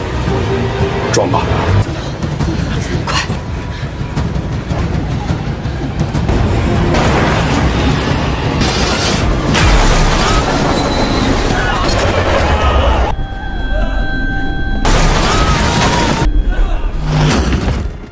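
A loud, continuous roar of a heavy train crashing through a barrier, with rumbling and metallic clatter, the din staying intense throughout with occasional sharper bursts.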